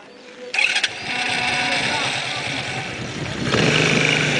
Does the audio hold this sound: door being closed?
no